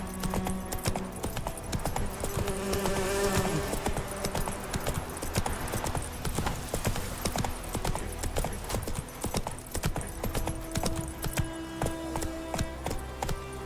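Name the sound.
horse galloping hooves in The Witcher 3 video game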